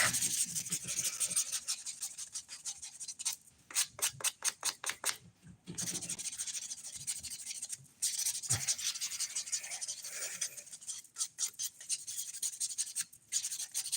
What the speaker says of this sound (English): I'm gonna buff real quick